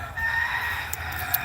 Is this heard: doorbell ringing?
no